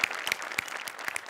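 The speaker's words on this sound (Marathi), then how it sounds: "जोरदार टाळ्या" Applause for a comedy stage performance, a short burst of crisp claps from a small audience, fairly faint with a few sharper individual claps standing out.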